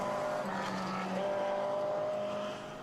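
A Toyota MR2 rally car corners on a gravel stage in New Zealand with its engine droning at steady revs. The tone rises and falls slightly as it holds the corner and fades a little toward the end.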